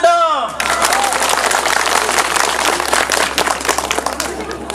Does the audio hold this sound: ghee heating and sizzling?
no